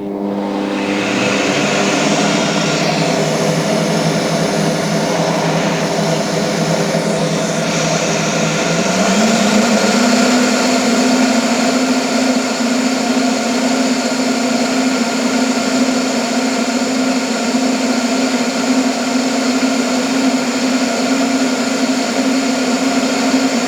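A flow bench runs a steady, loud whooshing drone while testing a 1JZ exhaust manifold with a ported, port-matched turbo flange. Its pitch steps up partway through and then holds constant.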